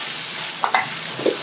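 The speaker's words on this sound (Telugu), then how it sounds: "సో టమాటో వేసుకున్న ఒకసారి కలుపుకోండి" Tomatoes get stirred in a frying pan alongside dried red chillies: a steady background sizzle, with a few short, soft scrapes of the spoon against the pan.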